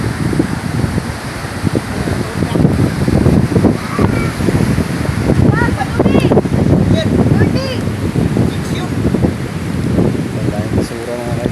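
Sea waves and strong wind on a shore after a typhoon, a loud, continuous buffeting roar with surging surf, recorded close by and gusting hard against the microphone, with someone speaking over it.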